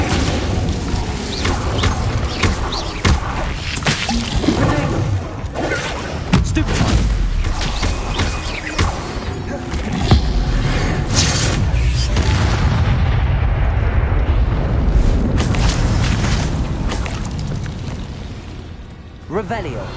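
Incendio fire spells cast repeatedly in Hogwarts Legacy, loud whooshing bursts and booming blasts, dense and continuous over layered game sound.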